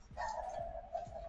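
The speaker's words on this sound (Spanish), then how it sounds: "el perrito va a estar ladre y ladre todo el tiempo" A small dog barks nearby in a piñata-making workspace, giving short, quick yips in a rapid series of about three over a soft background hum.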